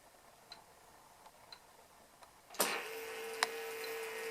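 Soft ticking clicks repeat about once a second, then the electric motor of a Bofeili e-bike spins up in push-assist mode with a steady whine, running at walking pace with one sharp click partway through.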